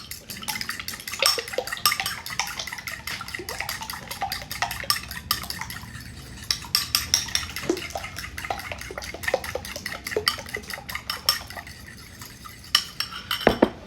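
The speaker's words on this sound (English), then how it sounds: "Then you just start whisking." Eggs are whisked briskly in a bowl, the whisk clinking and tapping the sides in a fast, steady rhythm with a wet sloshing undertone, close and continuous without talk.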